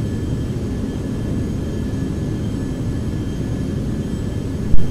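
Steady airplane engine drone in a flight simulator game, a constant low rumble with a faint tonal whine, running evenly throughout with no talk.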